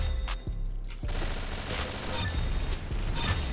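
Rapid bursts of gunfire from the Roblox game Arsenal, a loud fusillade of repeated shots with sharp transients throughout, mixed with in-game effects and no talk.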